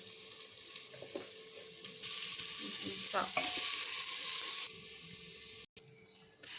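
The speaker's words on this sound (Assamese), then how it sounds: "আৰু অলপ সময় ভাজিলোঁ" Steady frying sizzle of khichdi ingredients with turmeric and salt fills the clip, swelling louder midway with a few stirring clinks, then easing down and briefly cutting out near the end.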